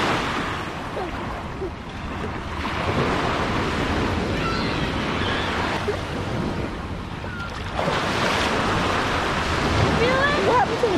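Ocean waves break and wash up on a Miami beach, a broad continuous surf roar that swells and recedes, mixed with wind buffeting the microphone and occasional distant voices.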